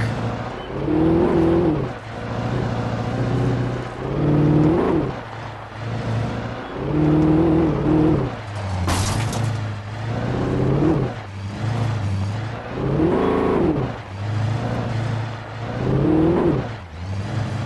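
A truck engine drives steadily in the video game Alan Wake, its low hum rising and falling in repeated revving swells with a brief burst of hiss midway.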